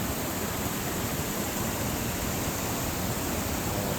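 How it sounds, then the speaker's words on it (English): Waterfall at Wangum Bridge in Pennsylvania, with water flowing under the bridge, producing a steady, dense broadband roar that stays even and loud throughout with no other sounds. "It flows under the bridge and then comes out to the other side to the waterfalls."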